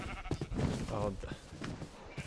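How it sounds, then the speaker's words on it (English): In the RLCraft Minecraft modpack, a sheep bleats a short, wavering bleat close by, mixed in with game sounds and low background noise. "Oh, and sheep."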